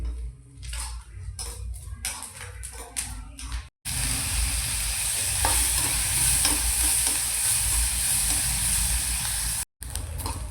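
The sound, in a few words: onion roasting in a pan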